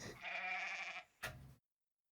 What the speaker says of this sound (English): There's also the goat noise when he falls.